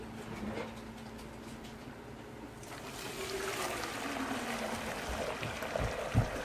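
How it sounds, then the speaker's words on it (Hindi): Water from boiled rice for chicken biryani is poured off through a strainer in a home kitchen. It makes a soft, steady trickle and splash that swells slightly partway through, quiet and close, with no talking. "मैं इनका पानी छान लूंगी।"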